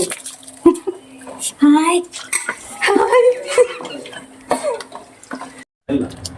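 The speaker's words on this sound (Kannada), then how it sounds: "ಈಗ ಬಿರಿಯಾನಿ ಅರಿ ಅಕ್ಕಿಯನ್ನು ತೆಗೆದು ಇನ್ನೊಂದು ಪಾತ್ರೆಗೆ ಹೀಗೆ ಹಾಕೊಳ್ಬೇಕು" Biryani rice being scooped and tipped into another cooking pot, with metal pots and utensils clinking and scraping in irregular bursts close by while someone talks over the work.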